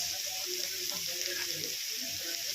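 Chopped dill leaves fry in a pan, a steady, even sizzling hiss throughout, with a faint voice murmuring in the background.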